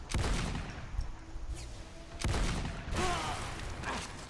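Sniper and turret gunfire in the video game Lost Planet 2 sounds as heavy booming shots and bursts over a dense battle din, loud and continuous across the short span.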